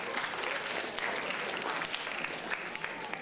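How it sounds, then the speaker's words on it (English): An audience at a design and creativity talk breaks into steady applause, a dense wash of many hands clapping at even loudness throughout. "Round of applause."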